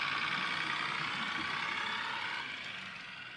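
Squeal from the brakes of a Graham Farish Class 108 DMU model train, a steady high-pitched hiss-like whine held throughout and fading slightly toward the end, heard alone without talk.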